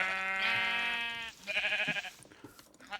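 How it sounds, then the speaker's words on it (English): A sheep in TerraFirmaCraft, a Minecraft mod, gives a long, loud bleat, then a second shorter, choppier one, close by with no talk. "But I think it's a good idea just to kill that sheep."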